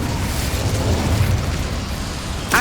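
Incendio fire spell cast in the Hogwarts Legacy video game, a loud rumbling burst of flame that roars steadily for a couple of seconds before a sharp crackle at the end.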